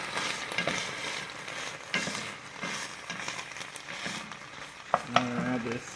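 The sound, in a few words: stirring chicken and broccoli in pan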